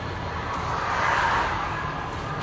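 Class A truck with a 10-speed transmission downshifting from eighth to sixth, a continuous loud engine and road rumble with a slight swell in revs midway, no talk over it.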